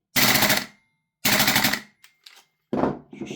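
A Daniel Defense PCC gas blowback airsoft rifle fires two loud, rapid full-auto bursts of about half a second each, followed by a few faint clicks and a shorter final burst, close up with no talking.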